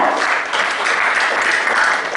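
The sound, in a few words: audience applause welcoming speaker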